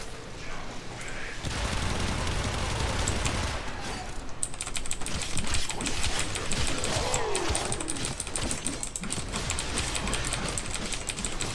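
Rapid automatic weapon fire from a Warframe video game, dense crackling bursts running continuously for the whole stretch at steady loudness, with no talk over it.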